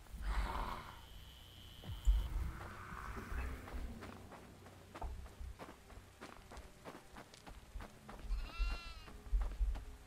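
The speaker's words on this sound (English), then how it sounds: "I can hear a goat!" A goat bleats in the horror video game Devour, a brief wavering cry late in the stretch, heard over quick running footsteps and low thumps in a quiet, faint game soundscape.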